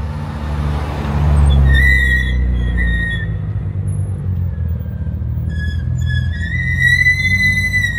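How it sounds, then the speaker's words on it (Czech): A car's engine rumbles, then high-pitched squeals from its brake pads rise over it in repeated bursts, sharp and close, with no one speaking. "Slyšíš pískot, to znamená, že jedu."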